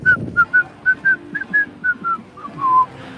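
A person whistles a tune up close, a clear run of short, bright notes ending on one longer held note.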